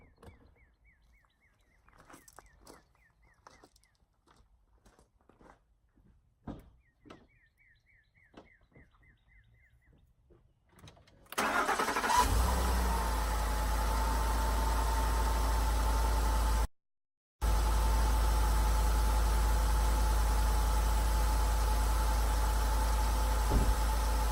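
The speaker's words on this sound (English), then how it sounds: "So I'm gonna crank it up and I'm gonna let it go ahead and start warming up on it." A truck engine cranks and catches after a stretch of quiet outdoor ambience with birds chirping, then settles into a loud, steady idle with a brief dropout partway through.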